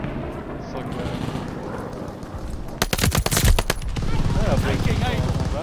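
Rapid gunfire and sniper shots crack loudly in the online shooter Call of Duty MW2, a dense burst of bangs in the middle over steady battle noise, with a player's voice talking throughout.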